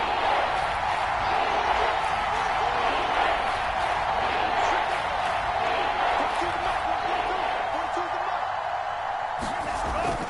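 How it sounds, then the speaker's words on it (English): Stadium crowd roaring steadily in a PS4 American football video game as a big third down approaches, a continuous loud wash of cheering with commentary voices talking over it. "the crowd getting into it as we come up on a big 3rd down"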